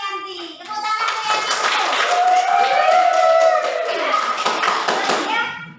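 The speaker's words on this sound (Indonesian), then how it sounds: "Tepuk tangan nih" Classroom applause from children, a burst of hand clapping running about five seconds, with children's voices and chatter mixed in during a lesson.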